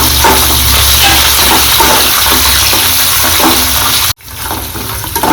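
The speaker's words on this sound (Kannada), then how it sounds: "ಈಗ ಇದಕ್ಕೆ ನಾನು ಕ್ಯಾಪ್ಸಿಕಮ್ನ ಹಾಕೋತಾ ಇದ್ದೀನಿ" Chopped capsicum hits a hot pan and fries on a medium flame, giving a loud, continuous sizzle with stirring scrapes that cuts out briefly near the end before resuming.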